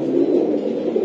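A grizzle pigeon coos close by in a continuous low, soft rolling murmur, steady and alone with no talking over it.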